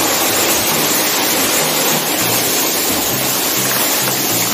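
The Jateswar waterfall in a deep forest gives a steady, loud, broadband rush of falling water that continues without a break, with faint low tones underneath.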